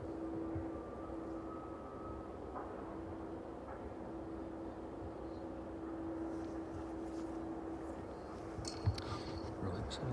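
An aircraft departing East Midlands Airport in the evening makes a faint, distant, steady engine drone that holds at an even level throughout, with a few soft clicks near the end.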